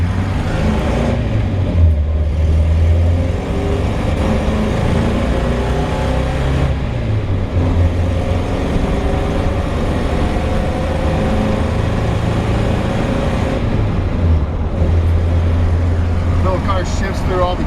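A 1959 Triumph TR10 estate wagon drives steadily with a manual gearbox, its low engine drone rising and falling across several gear changes, with road and wind noise throughout and a voice speaking over it.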